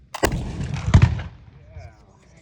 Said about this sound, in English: I'm going to ram that cartridge down to the bottom of the barrel. And now I'm ready to shoot.